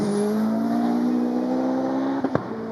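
A race car climbs the Goodwood Festival of Speed hill in a timed shootout, its engine a steady loud drone that rises slowly in pitch, with a brief gear-change blip near the end and no talking.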